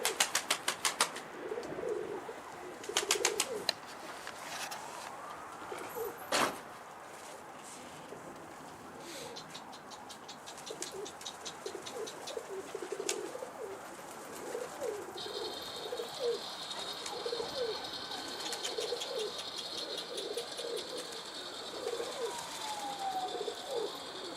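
Pigeons flapping their wings and cooing at a bird market, with repeated wing bursts early on and soft coos throughout, plus a brief thin whistle and faint background voices.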